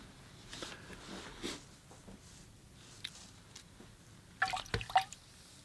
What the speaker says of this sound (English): And then I rinse off my brush and I take off some of the water.